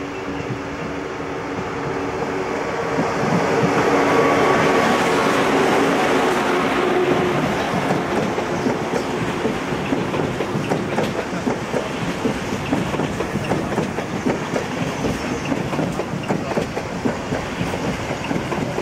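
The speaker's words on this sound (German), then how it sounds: "zum Intercity Express Maria Sibylla Merian nach Hamburg-Altona, planmäßig Abfahrt 12:51 Uhr" A German Intercity Express train moves through a railway station, rolling and swelling in loudness, then passing steadily with rhythmic clickety-clack of wheels over rail joints and a broad rushing noise.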